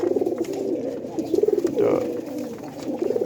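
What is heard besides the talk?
grizzle or racer pigeons cooing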